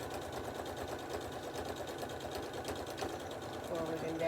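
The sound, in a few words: sewing machine stitching a sunglasses case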